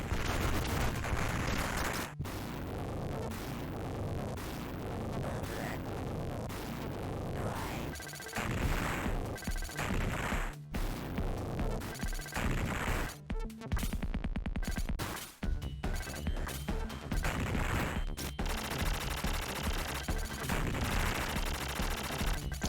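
Rapid machine-gun fire and explosions from the Sega Genesis game Contra Hard Corps during a boss fight, dense continuous blasts with brief gaps and bursts of heavier impacts over game music.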